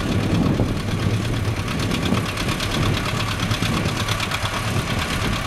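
An old tractor engine chugs along steadily during a plowing day, a continuous rhythmic knocking rumble that stays loud and close with no talking over it.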